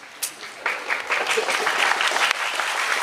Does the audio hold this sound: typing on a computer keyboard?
no